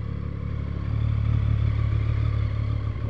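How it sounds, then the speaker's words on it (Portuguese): A street motorcycle idles and warms up ahead of a light burnout in Curitiba, its steady mid-pitched engine rumble swelling slightly partway through and holding close and loud with a faint mechanical clatter. "Esquentando os motores."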